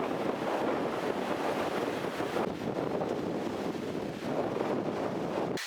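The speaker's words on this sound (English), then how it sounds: "it is very windy" Strong wind buffets the microphone continuously, a loud broadband roar with gusty surges and no voices.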